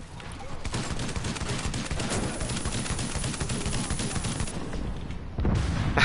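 Rapid gunfire and headshots from the video game The Division, GE Outbreak mode, crackling in dense continuous bursts at steady loudness, with a louder burst near the end and a voice talking over part of it.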